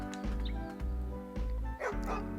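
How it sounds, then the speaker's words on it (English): Dog barking in the video game Lost Kingdoms 2, a few repeated yipping barks over steady game background sound. "we got another demon hound near this crazy dog here"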